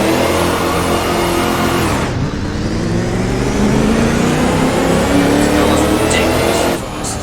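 A supercharged Toyota W25 Formula One car in the Assetto Corsa racing game revs loudly and continuously, its engine note dipping and climbing again, with a brief drop near the end.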